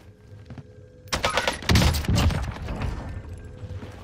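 AK-47 fire on Rebirth Island in Call of Duty, short sharp bursts of shots following a quieter opening, close and loud, fading into lingering echoes.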